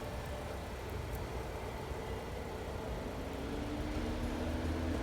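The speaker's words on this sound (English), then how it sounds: "Your Nissan should start." A Nissan engine idles after a remote start from the key fob, a steady low hum heard from nearby without voices, with no clear cranking at the start.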